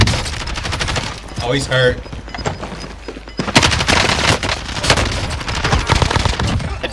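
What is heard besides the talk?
gunfire from a video game shooter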